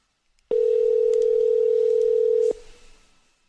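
A steady, loud telephone dial tone sounds for about two seconds while a call is placed on a radio show, then cuts off, leaving a faint fading tail.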